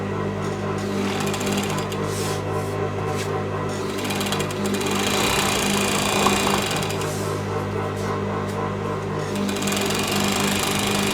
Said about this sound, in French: cette machine, c'est une surfileuse